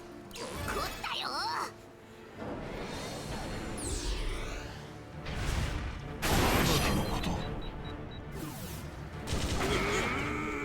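Fireworks skill attack in the video game Fuga: Melodies of Steel, a rapid series of bursting, crackling blasts and crashes that keeps going loudly across the whole stretch, with several heavy surges.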